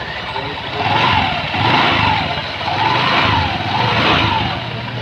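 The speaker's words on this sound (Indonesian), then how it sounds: "Suara sudah kembali normal seperti motor-motor pada umumnya." An automatic scooter engine runs steadily after a CVT repair, its hum swelling and easing in a few gentle throttle waves, close and fairly loud, with no squeak audible.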